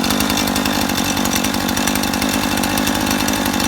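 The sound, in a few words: small engine running after a cold start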